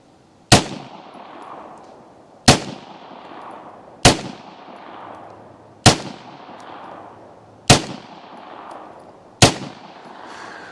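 Six Federal Premium Punch .22lr rounds are fired one at a time into ballistic gel, each a sharp, loud crack with a short ringing decay, spaced roughly two seconds apart, with no talking.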